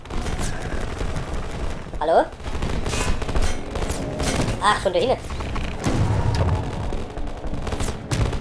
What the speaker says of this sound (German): Kommen die Schüsse her?